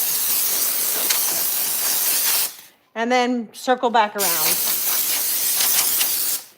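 A steam cleaner blasts a home tower garden with a loud, steady hiss for a few seconds, cuts out briefly while a person speaks, then resumes its continuous spray.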